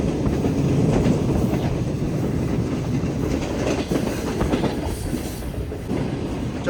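A Green Line passenger train runs on tracks between Lahore and Karachi, heard from inside the economy class coach as a loud, steady rumble with faint rhythmic clatter of wheels over rail joints.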